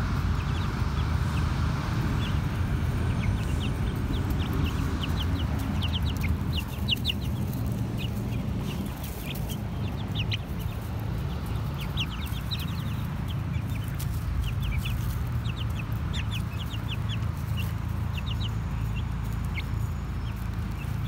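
Backyard chickens and a rooster in a coop keep up a continuous, busy chorus of clucks and short calls over a steady ambient hiss, close and fairly loud throughout.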